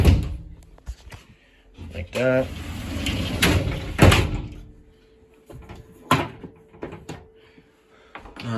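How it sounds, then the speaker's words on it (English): The latched doors of a 2015 Laredo 322RL RV are unlatched, swung open and shut, giving a few sharp clicks and knocks mixed with someone talking nearby. "then lift that up and you can open and close the doors"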